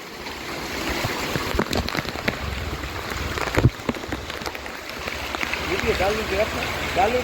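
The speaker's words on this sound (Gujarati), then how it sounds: "ધોધમાર ને ભયાનક વરસાદ આજે આખા દિવસ વરસો છે" Steady torrential rain pours down in Junagadh with a constant hiss and patter, joined by occasional splashes and thumps, while a person talks over it.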